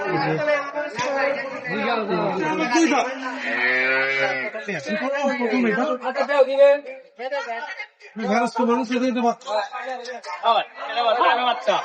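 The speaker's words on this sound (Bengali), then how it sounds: "আমরা একটু পাশের গরুগুলো একটু দেখাবো" Dairy cows at a busy cattle market low repeatedly in long, drawn-out moos, close by, while people chatter and talk around them.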